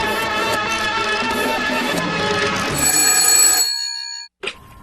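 A telephone bell rings loudly and continuously in a comedy sketch, a bright, steady electric trill that cuts off abruptly near the end. A short clatter follows.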